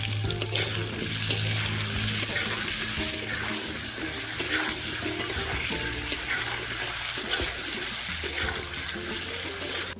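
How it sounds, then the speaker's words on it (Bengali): Cubed potatoes frying in hot oil in a pan with salt and turmeric, a loud continuous sizzle and hiss with occasional stirring scrapes, steady and close throughout. "আর এতে দিয়ে দেবো অল্প একটু নুন আর হলুদ দিয়ে একটু আলুটাকে ভালো করে ভেজে নেব"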